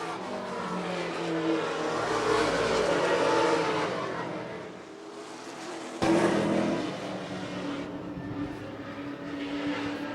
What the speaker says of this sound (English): a little bit of tire spinning by both front runners, it looked like.